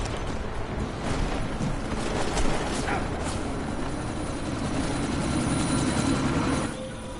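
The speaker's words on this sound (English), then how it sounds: "We can't let that chopper take off, Jensen." A helicopter in the video game Deus Ex: Mankind Divided, set in a sandstorm, gives off a steady, loud rotor and engine roar. The sound holds constant for several seconds with no speech, then drops off sharply near the end.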